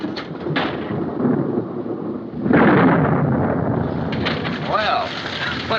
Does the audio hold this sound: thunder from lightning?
yes